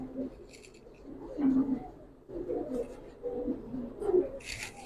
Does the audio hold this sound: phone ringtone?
no